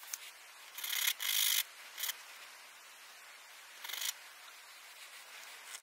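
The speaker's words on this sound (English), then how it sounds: "So here I have 150 grit sandpaper," A plastic Kilominx puzzle piece is rubbed on 150 grit sandpaper in a few short, brisk bursts of gritty scraping, close and fairly quiet, separated by pauses.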